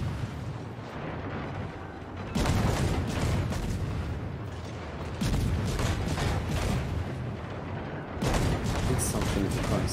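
Naval guns boom in World of Warships, with heavy cannon salvos erupting in three loud bursts amid continuous rumbling battle noise.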